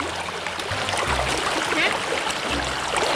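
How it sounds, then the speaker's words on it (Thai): Fast, strong river water, swollen by a high dam release in the flood season, rushes and churns steadily and loudly throughout, a dense broadband roar with low rumbles underneath. "น้ำไหลแรงมาก"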